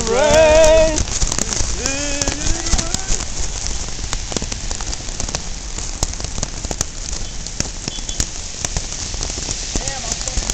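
Heavy rain pours down on surfaces outdoors in the Philippines during a run, a loud, dense patter with sharp drop hits, after a short stretch of a voice at the start.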